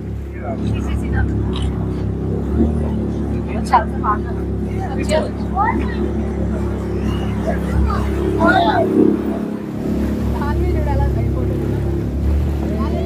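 A boat on a park lake at Cubbon Park, Bangalore, carries riders with a steady low motor hum and a faint water wash beneath, while people talk and chatter over it throughout.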